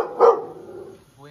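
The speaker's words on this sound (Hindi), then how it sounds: "वो एक आदमी बैठा है उस पर भौंक रही है" A dog barks at a seated man, one sharp bark near the start that fades into a short growl, fairly close and loud, with a voice faintly present.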